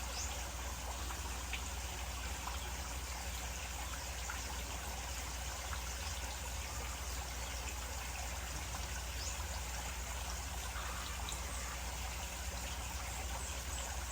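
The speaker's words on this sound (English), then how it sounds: "Alright, it's now spilling out. It's now became an overflow." Water from a crayfish pond overflowing and spilling out through a screened drain, a steady, continuous gushing trickle at an even, moderate level throughout.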